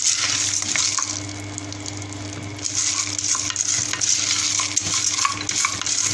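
Pasta is stirred in a pan, giving a continuous close scraping and swishing under a faint sizzle, with no talking.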